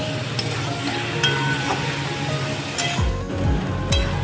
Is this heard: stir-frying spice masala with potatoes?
yes